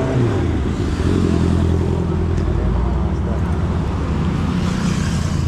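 Motorcycles and four-wheeled vehicles pass and idle at a police checkpoint on a road at Marilaque, a steady loud engine drone and traffic rumble continuing throughout with no clear individual pass-bys.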